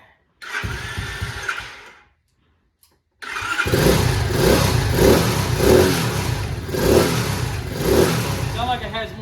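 Chinese CT70-style 125cc motorcycle engine cranking and catching, then idling and revving in repeated rhythmic throttle blips, loud and close, after a brief pause of near silence, with people talking nearby.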